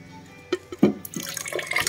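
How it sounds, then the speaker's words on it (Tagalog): Crushed ice with water added for a Yakult and lemon juice drink gives a few sharp clinks and drips, then a looser sloshing, trickling liquid sound, close and fairly quiet. "lagay na natin ang ating crack ice."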